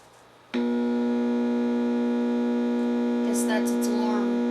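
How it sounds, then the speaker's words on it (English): Alarm of a Yorx 8-track alarm clock radio switches on abruptly as a loud, steady electric buzz that holds a constant low pitch. Faint rustling can be heard near the end. "Guess that's its alarm."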